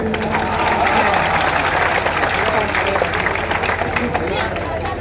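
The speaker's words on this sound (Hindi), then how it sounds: "लेकिन आपकी तालियां कम मिली" Dense, steady applause from a large audience at a Ganesh festival poetry gathering in Kishangarh Renwal, a continuous wash of many hands clapping with crowd murmur mixed in throughout.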